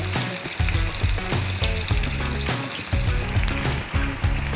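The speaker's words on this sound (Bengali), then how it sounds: "মচা মচা করে ভেজে দিব।" Fish frying crispy in hot oil for a Bengali fish fry, a loud, close, continuous sizzle with crackling bursts and some low pulsing noise underneath, no talking.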